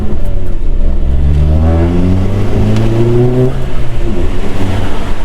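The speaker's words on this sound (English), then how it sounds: "That downshift though." A Stage 2 tuned VW Mk7 Golf GTI engine blips and revs through a downshift on a highway, its rising and falling tone loud and close over steady road and cabin noise.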